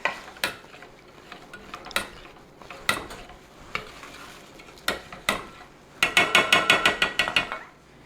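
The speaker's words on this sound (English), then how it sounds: "We're going to put this gelatin and key lime juice that we set aside. We're going to mix that in with it." Gelatin and key lime juice stirred into a cheesecake mixture in a bowl, sharp intermittent clinks and scrapes of a utensil against the bowl, then a quick run of rhythmic taps near the end, close and clear.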